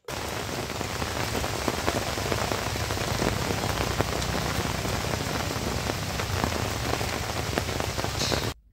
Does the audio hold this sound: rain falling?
yes